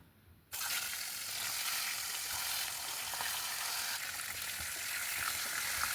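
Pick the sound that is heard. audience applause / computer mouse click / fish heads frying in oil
fish heads frying in oil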